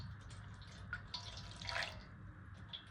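Water poured over a small deity idol during a ritual bathing, heard as faint dripping and light splashing trickles at close range with a low background hum throughout.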